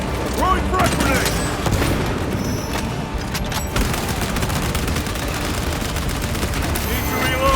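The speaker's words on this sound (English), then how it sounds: "Throwing frag grenade!" Dense, continuous gunfire and heavy booms fill a battlefield in Warhammer 40K Space Marine II, with rapid automatic bursts layered over a grenade blast and shouted voices beneath the din.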